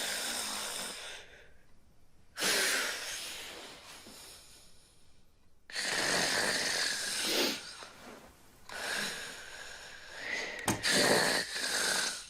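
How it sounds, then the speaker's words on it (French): A person snores in a bedroom, several long rasping bursts separated by quiet pauses, fairly close and steady, with no talking over them. "Vous savez que vous ronflez?"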